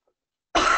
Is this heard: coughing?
yes